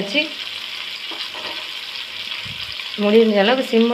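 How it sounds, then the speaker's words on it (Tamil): Tomatoes and cluster beans frying in oil in a pan, a steady soft sizzle running throughout, with a voice speaking over it near the end. "இதுக்கப்புறம் கொத்தவரங்காவை போட்டு நல்லா அதையும் ஃப்ரை பண்ணுங்க"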